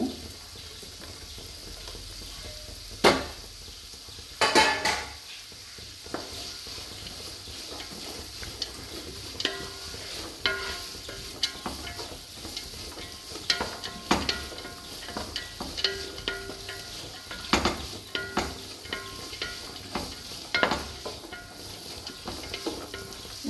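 Paneer pulao ingredients, including carrot, sizzle in a pan while being stirred, with soft continuous frying hiss broken by irregular scraping and clinking knocks of the spoon, close and fairly quiet throughout.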